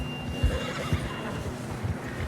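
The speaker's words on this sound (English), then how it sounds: "See how my horse reacted to the gunshot?" A horse in the video game Red Dead Redemption 2 whinnies and snorts in a few short bursts over steady low background ambience, fairly close and moderately loud.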